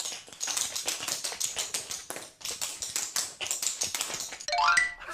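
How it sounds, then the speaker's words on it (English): Tap shoes with metal plates on the soles clatter in quick, uneven bursts of sharp clicks on a hard floor, close and fairly loud, with a brief bright chime near the end. "These are really special dancing shoes because they've got metal bits on the bottoms."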